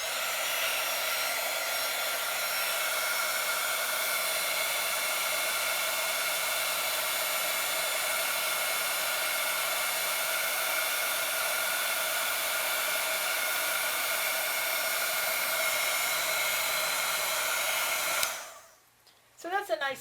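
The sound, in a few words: heat tool heat-setting Distress Ink on watercolor card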